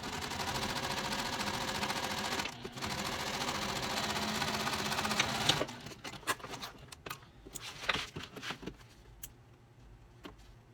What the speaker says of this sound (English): Now we're going to go to the machine. We're going to stitch just the bottom here.